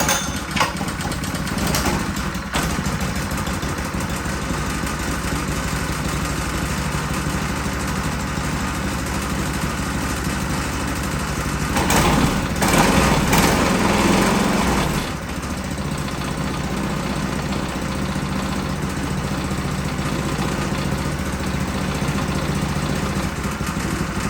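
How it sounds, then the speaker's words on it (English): Honda GX200 engine on a Dewalt pressure washer runs continuously, a steady close mechanical drone with a louder surge partway through before settling back to an even running note. "That engine starts really nice."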